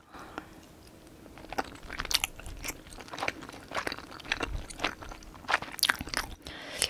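Close, steady chewing of thick, chewy rice cake tteokbokki from a Busan Igane tteokbokki cooking box, with repeated soft crunching bites and squishy mastication in an irregular rhythm, no talking.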